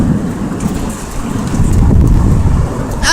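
Rain pours during a thunderstorm with lots of lightning, a dense, loud roar of falling water with low rumbling swells underneath and no voices.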